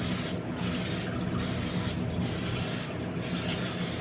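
Cooking spray hisses onto a baking dish for a pasta bake with olives and mushrooms, a steady close spraying sound broken by several short pauses between bursts.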